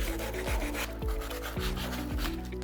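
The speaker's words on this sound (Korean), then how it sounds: "사포를 들고 다시 한 번 이렇게 모서리 같은데 이렇게 한번" Sandpaper rubs along the edges of an assembled frame made from scrap wood, a steady close scraping with rhythmic strokes recurring about every half second, no voices.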